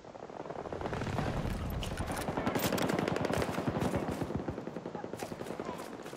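Rapid gunfire and explosive battle noise from the DXR-1 sniper rifle in the video game Battlefield 2042, a dense burst of repeated sharp cracks swelling and fading over several seconds, loud and close.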